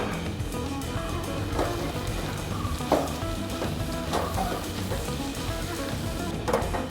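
Drumstick thoran frying in an open pan in a Kerala kitchen, a soft continuous sizzle with scattered clicks and scrapes from stirring.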